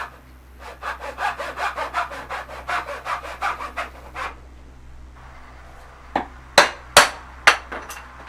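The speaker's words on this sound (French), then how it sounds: "On coupe avec la scie et on vient retirer le reste avec le ciseau à bois." A hand saw cuts through reclaimed wood in a run of quick, rhythmic strokes, close and clear, followed by a pause and several sharp, isolated knocks like chisel or hammer strikes.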